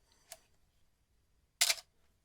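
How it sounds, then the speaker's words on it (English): A Canon camera shutter fires with a soft, faint click followed about a second later by a sharper, louder mechanical snap, close up in a quiet room. "Look at what happened when I fire the shutter."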